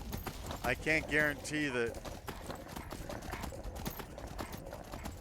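Horse hooves clip-clop steadily while riding through Whiterun in Skyrim Anniversary Edition, heard under someone talking throughout.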